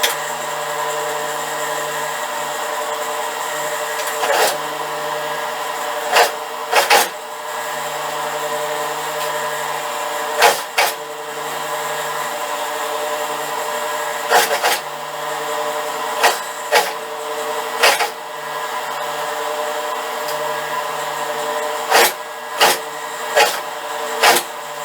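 Sewing machine stitching a section of a child's blouse with a ruffled armhole, a close steady motor whir broken by short repeated bursts and clicks as the stitching starts and stops.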